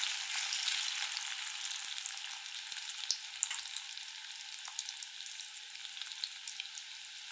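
Cauliflower pakoda pieces fry in hot oil, giving a steady close bubbling sizzle that runs throughout with small crackles and no talk.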